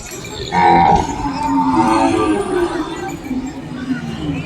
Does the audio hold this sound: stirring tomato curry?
no